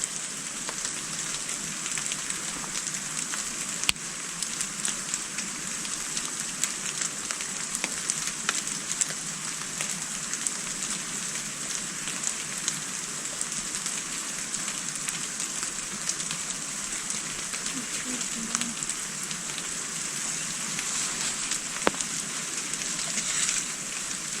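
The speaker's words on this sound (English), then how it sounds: "Hard to hear with the damn rain." Steady, dense rain pattering on a surface, close and constant, with a bright hiss throughout and no voices, on the Alaskan coast.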